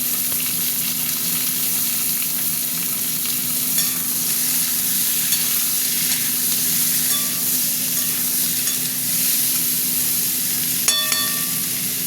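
Potatoes and green peas fry with onion in a wok, making a loud, continuous sizzle with occasional light scrapes and clinks of stirring, and no voices.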